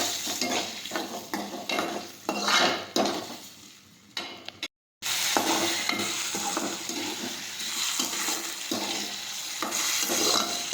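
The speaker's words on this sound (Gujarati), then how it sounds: "ટમેટા નાખીશું સુમારેલા હવે આપણે સાતળી દઈશું" Chopped tomatoes sizzle in a pan as they are sautéed with potatoes and stirred, a steady frying hiss broken by scraping strokes and a brief silent gap, heard close with no talk.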